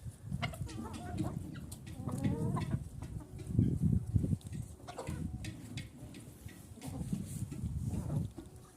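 Bantam rooster and hens cluck close by in a steady, overlapping stream of short calls that rise and fall in loudness over several seconds.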